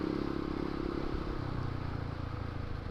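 A manual clutch motorcycle rides on a road, its engine a steady close rumble with road and wind noise, shifting tone as it changes gear.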